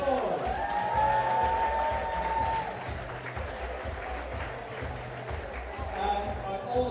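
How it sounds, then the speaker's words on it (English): Applause for volunteer judges at a flash-fiction championship grand final, crowd clapping heard under a voice and a faint musical tone that fade midway, then continuous clapping through the rest. "Give them a round of applause."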